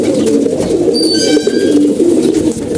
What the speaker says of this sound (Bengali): এদিকে আমাদের কবুতরগুলো খাবার দিছি